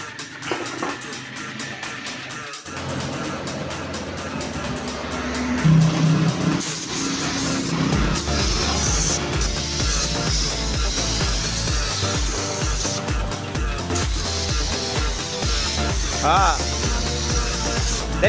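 Spray gun applying black base coat to a scratched motorcycle fairing cover, a steady broadband hiss that starts a few seconds in and runs continuously, loud and close, with a voice speaking briefly at the start.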